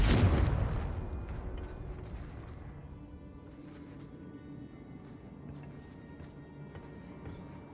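A Confringo fire-blast spell explodes in Hogwarts Legacy, a strong booming burst at the start that decays into a long, fading rumble with scattered crackles.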